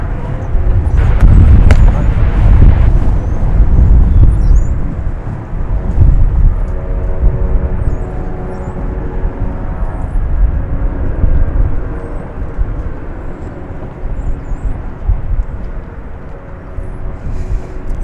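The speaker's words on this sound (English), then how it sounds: "It's an Airbus A319, flight 1448." An Airbus A319 airliner on Delta flight 1448 from Minneapolis–St. Paul passes at DFW Airport, a loud broad engine roar that swells early and then slowly fades. Steady wind or background noise stays underneath throughout.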